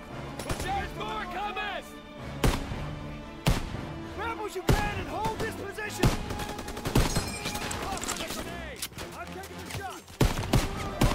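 Rapid bursts of rifle and machine-gun fire in a Call of Duty: WWII battle at a factory, loud and near, overlapping in dense volleys under shouted soldier voices and music.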